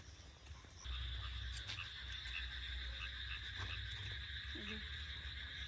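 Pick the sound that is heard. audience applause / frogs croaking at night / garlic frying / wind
frogs croaking at night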